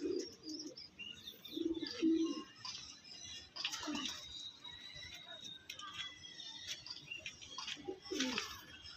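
Low, soft pigeon cooing repeats in short bursts, mixed with small chirps and faint background voices and noise.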